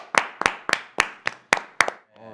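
Seven crisp, evenly spaced hand claps from a small group at a fan meeting travel segment, close and distinct, followed by a brief voice at the end.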